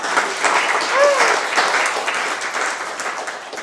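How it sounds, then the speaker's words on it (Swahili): An audience claps and cheers loudly for several seconds in a Swahili school comedy scene, with a dense, steady wash of applause and a brief whoop-like voice rising above it near the start. "Mpigeni makofi kwanza jamani."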